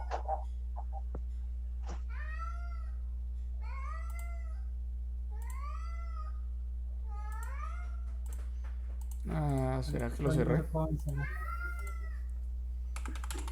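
A cat meows repeatedly near a computer, five or six rising and falling cries spaced a couple of seconds apart, with faint keyboard clicks and a brief stretch of talk partway through.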